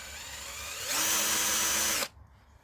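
A 21V cordless two-speed hammer drill with a variable speed trigger spins up to a loud, steady high-pitched whine, runs for about a second, then cuts off abruptly, heard close with no talking.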